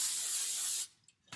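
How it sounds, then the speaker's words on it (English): Cooking spray hisses in a single steady burst of nearly a second into round cake pans for a boxed cake mix, close and fairly loud, then cuts off to near silence. "So I'm going to spray down each pan,"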